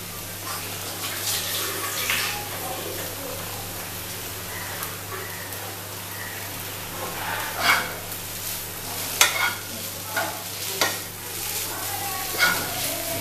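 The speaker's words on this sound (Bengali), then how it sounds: "এটা যেহেতু নুডলসের সাথে মেশাতে হবে, তোমাকে সেই জন্য দুটো স্পুন ব্যবহার করতে হবে" Noodles being tossed and mixed in a pan with two spoons, soft wet stirring and scraping with a few sharper clinks, over a steady low hum.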